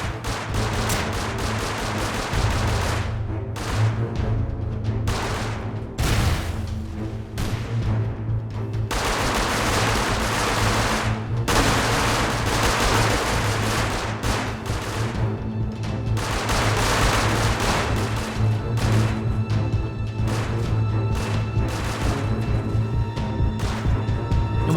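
Gunfire from the Rust survival game during a large base raid, heard as dense, continuous bursts of shots and booms that carry on steadily throughout, somewhat distant and layered over a low background rumble.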